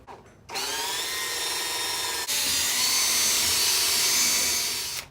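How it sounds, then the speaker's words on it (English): Power drill boring holes through a plastic Jeep panel, a close, steady high-pitched whine that starts abruptly after a brief pause and keeps grinding with a slight change in pitch midway. "Time to drill."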